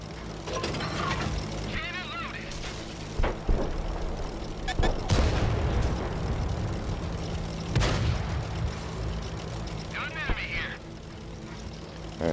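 Tank cannon fire in the game World of Tanks during M41A1 gameplay, with several booming shots and explosions spread irregularly over a rumbling engine bed while a player talks over it.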